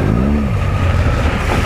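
A BMW R1200 GS motorcycle engine revs loudly and steadily nearby, a continuous throaty roar from a ride along wet roads.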